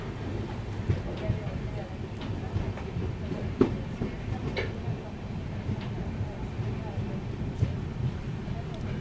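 The Mandovi Express rolling into Mangaon station, a low steady rumble of rail wheels with wind buffeting and occasional knocks throughout, heard from onboard.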